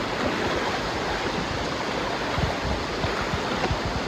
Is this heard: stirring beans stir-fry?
no